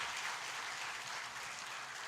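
Steady, dense applause from a church congregation at a Sunday service, continuous and even throughout, with no talking.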